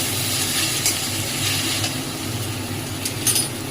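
Onions frying in a pan with a spoonful of sugar added, giving a steady close sizzle with faint stirring scrapes and brief crackles throughout.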